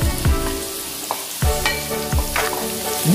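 Sliced chayote dropped into a hot pan sizzles steadily while being stirred, with repeated scraping and clattering strokes over a constant close fry.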